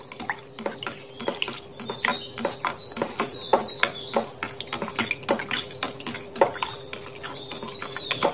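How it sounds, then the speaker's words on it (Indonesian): Softener and detergent solution stirred continuously in a container, a quick run of rhythmic clinks and scrapes close by, with a person talking faintly underneath. "Nah, ini saya tuang. Ini 100 mili. Kemudian saya akan aduk."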